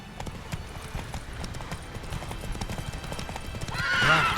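Roach, the horse in The Witcher 3, trots with steady close hoof clip-clops, then gives a loud whinnying neigh near the end.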